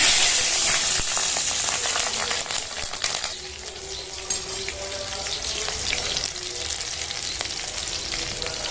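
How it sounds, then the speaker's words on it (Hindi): Green chillies dropped into hot oil for a kusum bhaji dish give a loud, bright sizzle that eases after a few seconds into a softer, steady spitting and crackle, with no talking. "तेल जो है गरम हो चुके हैं बहुत ही सुंदर ढंग से। तो सबसे पहले हरा मिर्चा डाल दिया जाए।"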